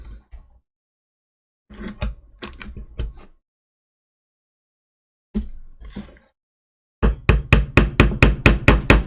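Small pins tapped into wooden planking on a 1:200 OcCre Prinz Eugen model ship hull, heard as short bursts of sharp taps, then a closing run of about ten evenly spaced, close, loud knocks.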